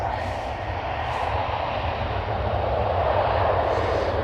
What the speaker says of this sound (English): There goes the second Delta Airlines A330